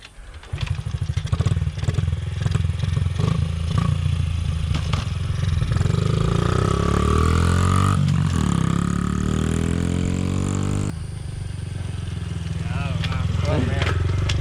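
A pit bike engine runs and revs loudly nearby after a crash that left its forks bent, with rising pitch sweeps as the throttle opens and people talking over it.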